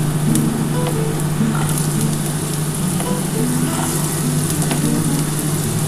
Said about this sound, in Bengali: আগে একটু পেঁপেটা একটুখানি ভেজে নিই হালকা করে